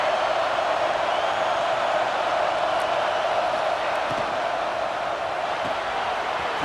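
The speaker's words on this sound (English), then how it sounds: "this crowd coming to life here trying to help the defense get a stop." Video game stadium crowd in EA Sports College Football 26 rising to support the defense, a steady dense roar of cheering voices held at even loudness throughout, with no individual talk standing out.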